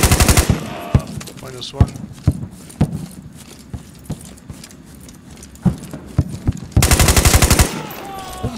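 AK-101 rifle gunfire in the video game Squad, loud rapid automatic bursts at the start and again near the end, with scattered single shots, footsteps and a brief voice in between.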